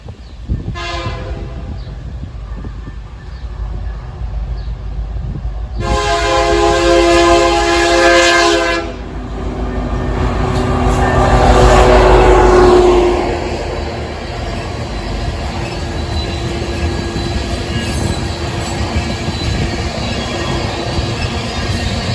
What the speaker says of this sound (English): an as-needed loaded ethanol train coming off of the Canadian Pacific in Bensenville, Illinois, and heading for Charlotte, North Carolina